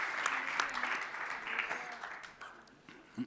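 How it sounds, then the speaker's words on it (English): Applause for startup finalists at a seed-night startup competition, a dense wash of clapping from a large audience that holds steady and then thins toward the end. "a big applause to all of them"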